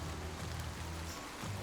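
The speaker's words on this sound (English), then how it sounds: "The rain is mostly being caught by the trees." Rain drips from broadleaf trees onto a humid hiking trail, a dense steady patter with no voices.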